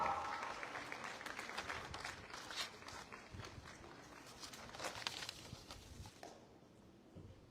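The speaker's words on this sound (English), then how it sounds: "Please welcome her with a big round of applause." Applause welcoming a speaker at the Tribune Model United Nations 2025, a fairly quiet spread of clapping from a crowd, heaviest at the start and slowly fading, with a few brief voices under it.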